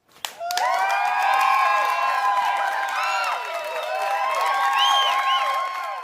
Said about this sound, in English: Let's give him a big round of applause and a warm welcome